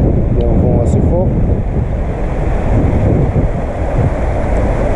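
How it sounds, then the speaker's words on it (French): Strong wind buffets the microphone in a constant loud roar throughout, with a brief faint voice-like sound near the start. "Il y a un vent assez fort."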